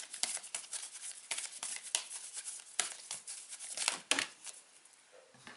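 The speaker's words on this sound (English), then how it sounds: "Let's shuffle this deck here." A deck of tarot cards is shuffled by hand, giving a quick run of crisp, papery riffles and slaps that sound close and moderately quiet, with no voices over them.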